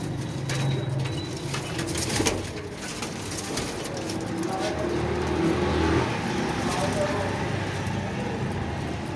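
Flying pigeons kept for sale in Faisalabad coo softly and repeatedly, close by, over steady background hiss while someone talks throughout.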